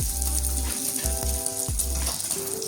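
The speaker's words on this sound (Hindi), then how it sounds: "एक साइड से मैंने अंडे को पका लिया, इसको अच्छे से पका लेते हैं" An egg sizzles and fries in a pan for an egg shami burger. The steady frying hiss runs throughout, broken by a few low thuds and clunks, with no talking.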